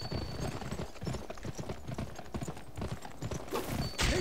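Horse hooves clip-clop in a steady, brisk rhythm in the video game GUN, close and continuous, with faint background ambience and no talk.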